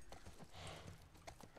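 Horse hooves clip-clopping in The Last of Us Part 1 video game, a brisk run of close, fairly loud hoofbeats at a steady trotting rhythm with no talk over them.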